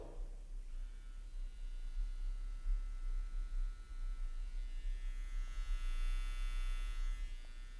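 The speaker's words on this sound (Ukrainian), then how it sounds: "ви тільки послухайте це чудо, як він сука шепоче" A quiet Stylecraft Saber electric hair trimmer runs with a soft, steady buzzing hum that shifts slightly in tone, close by and alone.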